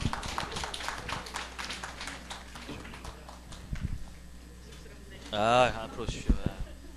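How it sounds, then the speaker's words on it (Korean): A small church gathering claps to welcome a guest forward, a short burst of many hands patting quickly at first, then thinning out, followed by a few knocks and a brief spoken voice near the mic. "자, 박수로 맞이하겠습니다."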